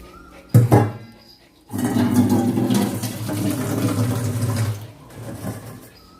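Water poured steadily into a bowl so a pet can drink at home, a loud continuous splashing stream of several seconds after a brief clatter, then tapering to a softer trickle.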